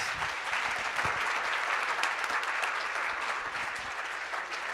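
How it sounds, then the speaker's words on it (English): At a founder event, a crowd gives a speaker a big, steady round of applause, full and even clapping that holds at a constant level for the whole stretch. "Let's give Rakia a big round of applause"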